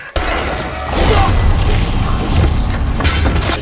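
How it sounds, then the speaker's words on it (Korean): A flare gun fires in a tense disaster movie scene, a sudden loud bang that gives way to a sustained, roaring rush of noise mixed with the soundtrack. "지켜보고 있던 캐시는 조명탄을 발사하고"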